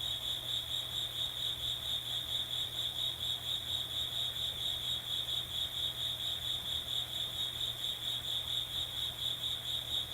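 A single cricket chirps loudly and steadily close to the microphone during an outdoor meditation, its continuous high trill unbroken and heard alone over a low background hum.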